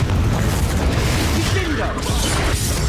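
Confringo blasting spell explosion in the Hogwarts Legacy video game, a dense, sustained rumbling boom with heavy low-end roar that fills the whole moment, loud and close, with a speaking voice mixed in.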